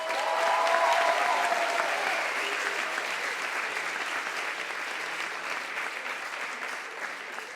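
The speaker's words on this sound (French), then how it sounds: "on peut les applaudir" An audience at an HEC Paris eloquence contest final applauds the finalists, a broad sustained roar of clapping that swells early and then holds steady, gradually easing toward the end.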